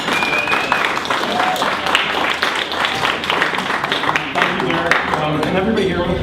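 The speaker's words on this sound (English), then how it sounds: "let's get some applause for Tom Crawford here from VizNetwork" Audience applause welcoming Tom Crawford of VizNetwork to a presentation design talk, a dense steady wash of clapping filling the room for several seconds with murmuring voices mixed in.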